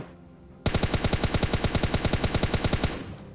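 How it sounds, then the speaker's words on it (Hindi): Steady automatic fire from an M4 rifle in PUBG Mobile Lite, a fast even burst of about twenty shots that starts abruptly after a quiet moment and runs loud and close for over two seconds. "जैसे बंदे दिखते हैं मैं फायरिंग शुरू करता हूँ"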